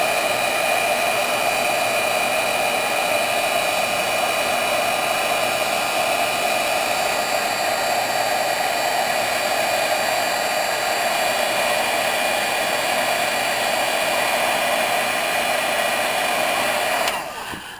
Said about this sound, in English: I took my heat embossing tool and I heat set it so it looks like this